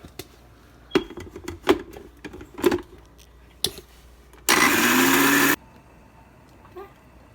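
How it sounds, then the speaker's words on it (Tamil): A mixer grinder whirs in one loud, steady burst of about a second, grinding coconut with water for a Coimbatore-style pulikulambu curry. Scattered kitchen clicks and knocks come before and after it. "அடுத்தது தேங்காய் அரைக்க போகிறோம்."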